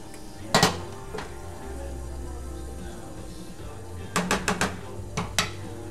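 Pasta being stirred in a pot: a metal utensil clanks against the pot in a sharp pair of knocks, then a quick cluster of rapid scraping taps, over a low steady hum of cooking.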